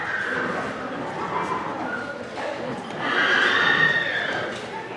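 A nervous, unruly horse whinnies and shifts about, its high call rising clearly over a steady rough background noise in the second half.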